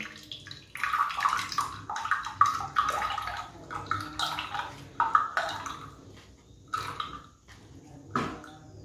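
A blender jar being rinsed with water and the rinse poured out, heard as bursts of splashing and sloshing with short drips between, close and moderate in level.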